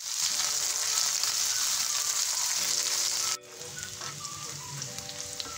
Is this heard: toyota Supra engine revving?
no